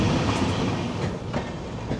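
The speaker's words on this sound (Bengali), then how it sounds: "ট্রেন ঢুকছে হসপেট" Amaravati Express train pulling into Hospet Junction in Karnataka, heard from on board as a steady, loud rumble of wheels and carriages with faint rhythmic clatter running throughout.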